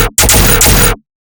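A gunshot sample inside a heavy distorted music beat: two loud, fat blasts in quick succession, the second sustaining briefly before cutting off abruptly into silence.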